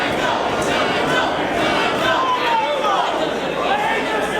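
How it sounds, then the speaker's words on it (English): A wrestling crowd at a Ring of Honor match cheers for Jay Lethal, a steady loud roar of voices and chatter from a packed arena, with no break in the noise. "Crowd getting behind Lethal."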